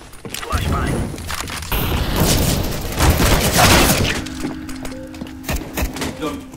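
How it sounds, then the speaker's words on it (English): A flashbang grenade goes off in a video game amid a loud, chaotic burst of blasts and rattling gunfire that swells over a few seconds and then thins to scattered sharp shots, with some voice underneath. "Flashbang."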